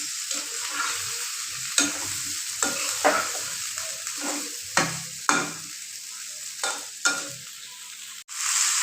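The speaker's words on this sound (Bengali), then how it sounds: "এবার মশলার সাথে মেস্তা আলুগুলোকে ভালোভাবে কিছুক্ষণ কষিয়ে নেব" Potatoes cook with spices in a pan, a spatula scraping and knocking in a slow irregular rhythm over a constant close sizzle, with no voices.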